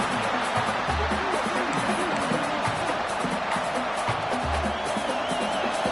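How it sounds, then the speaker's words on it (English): A stadium crowd at a USC football game roars in a dense, sustained wash of cheering and noise. It holds steady throughout with no distinct voices above it. "Listen to this crowd just shaking the girders of this place, trying to help their defense."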